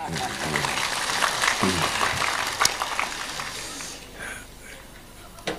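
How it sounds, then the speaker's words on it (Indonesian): Audience applause at an evening religious gathering, a steady dense wash of clapping that holds for about four seconds and then fades, with crowd voices and talk mixed in over it. "Tepuk tangan untuk Cak Imin."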